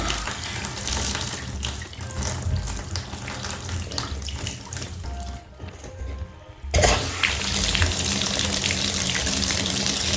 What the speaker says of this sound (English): Okay, put water on.